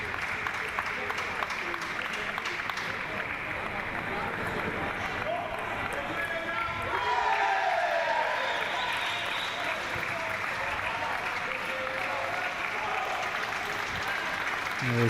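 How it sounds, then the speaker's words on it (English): A crowd at a para table tennis championship match in Sheffield applauds and cheers steadily, with the clapping swelling about halfway through as a commentator talks over it. "that gets a good roar from the crowd here in Sheffield"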